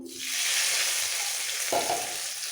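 Black cumin (kalo jeere) seeds tempering in hot oil for a mustard-paste pomfret dish, a loud, steady hissing sizzle that swells with a brief burst of crackle near the end, with no talking.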